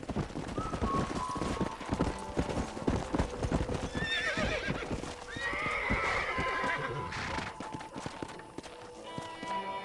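Steady clip-clop of horse hooves walking at an even pace near a ranch corral in Red Dead Redemption, with a couple of horse whinnies rising over the rhythm and soft music beneath.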